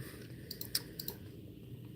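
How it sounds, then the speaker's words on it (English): A handful of quick, soft clicks from a computer keyboard, a short burst of light taps over quiet room noise. "And then I'll type it in the chat."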